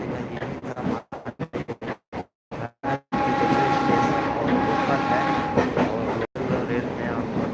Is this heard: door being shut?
no